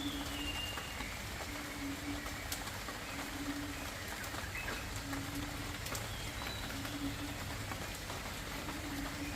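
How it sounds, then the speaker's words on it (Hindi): Steady rain falls outdoors as a continuous, even hiss with scattered drops, while faint birdsong repeats in short chirps behind it. "बारिश हो रही है"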